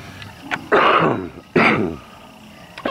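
A person with a lingering cough and runny nose clears their throat and coughs a couple of times, short harsh bursts separated by brief pauses.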